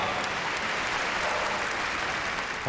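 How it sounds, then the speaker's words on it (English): Crowd applause at the Crufts Kennel Club British Open agility final for a handler and her dog, a dense, continuous wash of many hands clapping at steady volume throughout. "And a big round of applause for Alison and Ostara."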